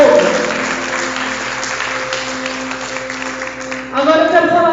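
A church congregation claps along at a worship service, a steady wash of applause running under a sustained tone, with a brighter, louder swell near the end.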